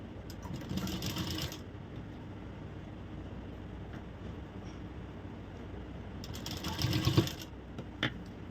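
Domestic sewing machine stitching a shoulder-to-waist dart on a blouse runs in two close, rapid bursts, one near the start and one near the end, with quiet handling between.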